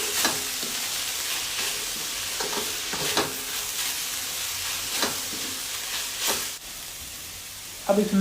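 Grated coconut crackles softly in a pan as a spoon mixes it, with scattered scraping knocks over a steady low sizzle, close up and fairly quiet.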